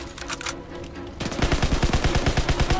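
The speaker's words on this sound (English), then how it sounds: "God, I hate the grease gun." An M3 grease gun submachine gun in Call of Duty WW2 opens up after a quieter opening second, firing a steady, fast burst of evenly spaced, loud, close shots that run to the end.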